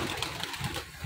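Plain pigeons on a rooftop in Faisalabad coo softly, a brief low burbling heard faintly against background noise.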